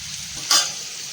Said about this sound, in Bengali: আলুটা ভালো করে ভাজা হোক